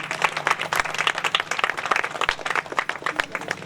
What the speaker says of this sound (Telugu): దానికి అందరూ కూడా చప్పట్లు కొట్టాల్సిందే గట్టిగా